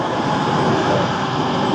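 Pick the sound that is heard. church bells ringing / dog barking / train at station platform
train at station platform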